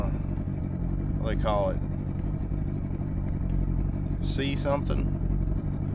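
A boat engine idles steadily at close range, a continuous low mechanical rumble throughout, with someone speaking briefly over it twice.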